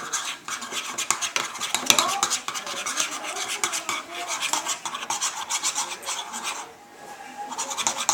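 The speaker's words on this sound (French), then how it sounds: "Donc on va mélanger." A spoon scrapes and stirs mug cake batter in a cup, a close, continuous rasping and clinking with a rhythmic swirl that pauses briefly before resuming.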